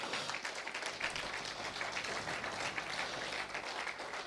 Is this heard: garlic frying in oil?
no